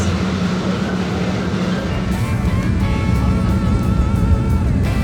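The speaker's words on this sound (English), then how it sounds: "We're on the train." A steady, loud rumble of a Boston train running on rails, partly underground, with a continuous low roar and faint rattling throughout, no speech.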